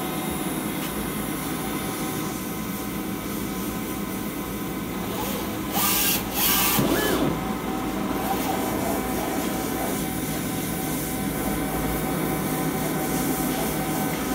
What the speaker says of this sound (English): Click print.